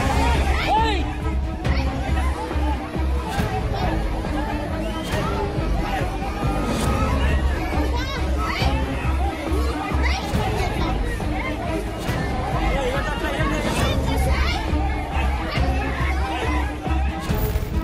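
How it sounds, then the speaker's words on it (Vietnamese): A crowd of onlookers shouting and jeering to drive off two lions, a dense, continuous babble of many raised voices at moderate distance, with some sharper yells breaking through. "hàng chục người dân đứng ở bên ngoài đã gào thét nhằm mục đích tạo sức ép với những tiếng la ó"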